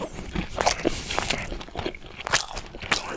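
Close crunchy bites and chewing of a sushi roll filled with salmon, cucumber and cream cheese and topped with sesame seeds and onions, a series of loud, irregular crisp crunches with no talking.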